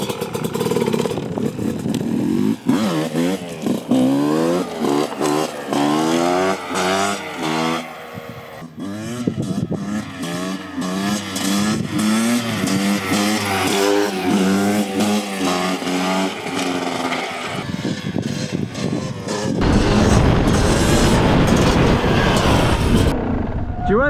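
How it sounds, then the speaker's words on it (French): Sherco 300 2T two-stroke motorcycle ridden in fourth gear, its engine loud and continuous with rising and falling pitch as it pulls, mostly without talk. "je suis en 4ème et la moto elle fait bop bop bop bop"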